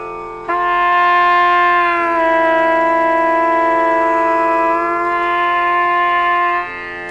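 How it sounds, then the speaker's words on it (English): A trumpet holds a bright sustained note, then slides smoothly down a half step and back up. The bend is made with the lips alone, without the valves, and the tone rings loud and close with nothing else playing. "lip the note, so bend it with my lips and not use my fingers at all"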